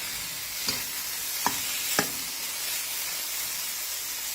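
Fish roe being dry-roasted and stirred in a pan, a steady soft sizzle with three sharp scraping knocks of the utensil spaced apart, no voices.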